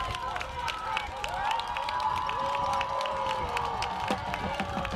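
Crowd at a Canada Games canoe kayak 5000 m final cheers for Ontario paddler Carson Corey, a steady wash of cheering and shouting that fills the whole stretch with no letup.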